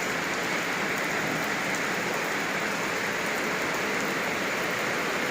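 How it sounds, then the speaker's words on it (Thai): Heavy storm rain pours all night onto a Thai rural home, a dense, loud, unbroken hiss of downpour on surfaces with no voices over it. "ฝนตกทั้งคืนนะคะ"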